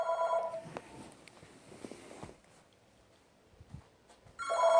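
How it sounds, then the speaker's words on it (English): A telephone rings in bursts at the start and end, with quieter rustling and room noise in between and no talking. "the phone is ringing."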